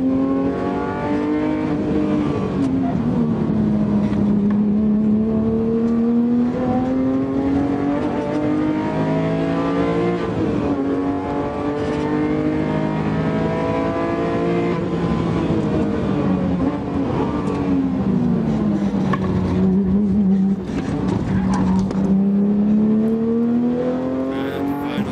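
Race car engines revving loudly and continuously, with pitch rising and falling in repeated sweeps as they accelerate, close and alone without talk.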